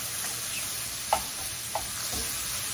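Broccoli florets and mixed vegetables being tossed in a pan over high heat for curry fried rice: a steady broadband sizzle with a few brief scraping clatters of the toss, close and alone.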